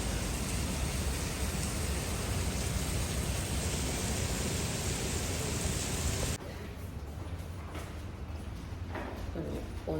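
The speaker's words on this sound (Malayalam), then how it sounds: "നല്ല മഴ." Heavy morning rain during a stay at Thalassery makes a dense, steady hiss that fills the first six seconds, then drops to a softer, patchier patter.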